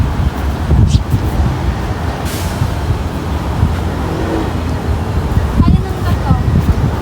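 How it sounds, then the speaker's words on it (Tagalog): Strong wind buffets the microphone at a scenic outdoor spot, a steady loud rumble throughout with voices talking over it. "Oo nga, sobrang hangin."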